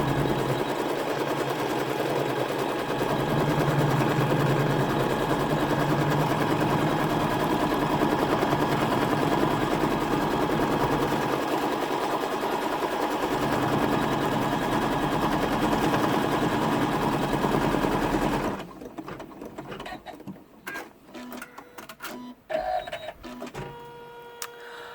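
Embroidery machine stitching a scallop pouch in the hoop, a loud steady rapid mechanical chatter that runs continuously for most of the stretch, then stops abruptly, leaving only sparse faint clicks and handling noises.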